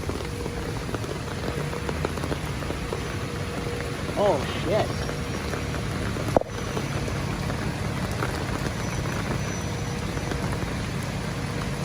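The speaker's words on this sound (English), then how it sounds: "it is literally raining right now" Heavy rain falls outdoors on a New York City street, a steady dense patter with a brief sharp knock partway through; a person speaks briefly over it.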